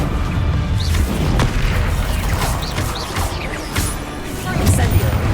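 Spell blasts in a Harry Potter video game crash and boom in quick succession over busy game noise, with a loud, dense mix of bursts and mechanical clatter throughout.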